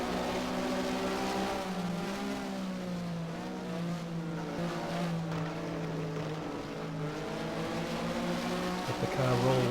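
A Porsche Mobil 1 Supercup race car in Race07 at Catalunya, its engine droning steadily at high revs while the gas is held down in fifth gear, with a pitch dip and a climb near the end.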